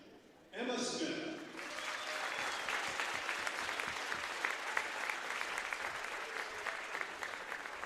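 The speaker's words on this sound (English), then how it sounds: "Big applause, a round of applause for our senior honorary for our wrestling managers." A crowd at a high school wrestling senior night bursts into sustained applause, steady clapping from many hands filling a gym, with voices mixed in at the start.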